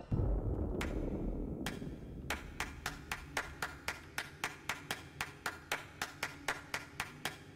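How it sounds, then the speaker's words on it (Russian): Hands clap in the video game Ereban: Shadow Legacy: a couple of isolated claps, then a rapid, evenly spaced run of sharp claps over a low rumble. "Хлопнуть в ладоши."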